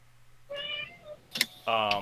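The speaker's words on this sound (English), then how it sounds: "Did I just hear a meow?" A cat meows twice in close succession, clear drawn-out tonal calls separated by a brief clattering noise, heard up close over a low hum.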